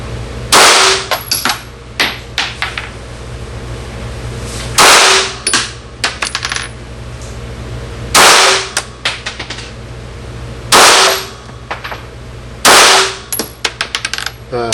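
Glock 17 pistol firing at a swinging target outdoors, six sharp loud shots spaced a couple of seconds apart, each followed by quick metallic clanks and ringing hits.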